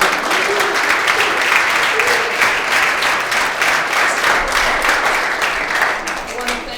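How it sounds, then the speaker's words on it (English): Sustained audience applause at a campus homecoming-weekend event on student experiences, thick and even clapping throughout at strong volume with crowd ambience beneath. "And one more round of applause."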